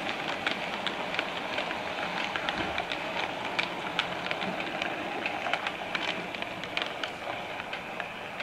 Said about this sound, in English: As the train departs for London